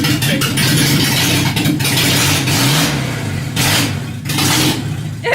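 Nissan S12 Gazelle drift car engine running as the car creeps forward, a loud close rumble with revving swells and bursts of hiss.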